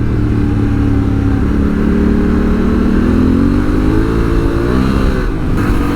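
A 2022 Honda Africa Twin motorcycle engine drones loudly and continuously while riding, its pitch climbing and wavering as the throttle opens, with steady rushing wind noise throughout.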